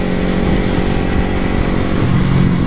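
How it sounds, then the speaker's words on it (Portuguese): A Kawasaki Ninja 250R motorcycle with its stock exhaust runs close and loud, a steady rumbling engine note that swells slightly toward the end. "Vou fazer um teste final agora com a minha moto, com o escape original ali."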